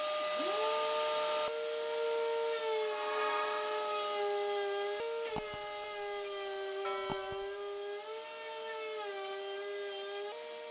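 A Ryobi router in a router table cuts a cove profile into wood, a loud, steady high-pitched motor whine that holds for about ten seconds with slight pitch dips and brief clicks as the bit bites.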